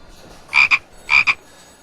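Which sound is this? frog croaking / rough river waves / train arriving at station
frog croaking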